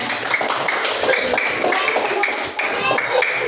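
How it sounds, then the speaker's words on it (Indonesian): Students in a classroom clap their hands together in a steady, dense round that fills the whole stretch, with a teacher's voice faintly mixed in. "boleh kasih tepuk tangan dulu untuk kalian semua"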